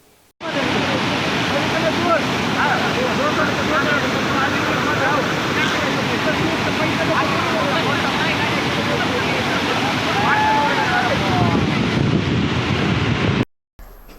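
Water from opened dam gates rushes in a loud, continuous roar with no break, heavy and broadband, sounding close and steady throughout.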